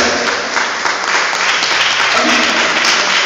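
Sustained applause from a church congregation, a dense steady clapping that fills the whole stretch with no pause.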